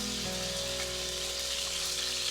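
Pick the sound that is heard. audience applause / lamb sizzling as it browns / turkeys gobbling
lamb sizzling as it browns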